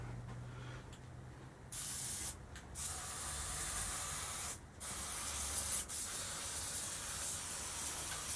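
Aerosol lubricant sprayed onto a bar in short hissing bursts, close and fairly loud, with brief pauses between the sprays and no talking.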